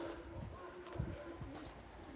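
A pigeon coos softly a few times in low, throaty bursts, faint and fairly close, against quiet outdoor background noise.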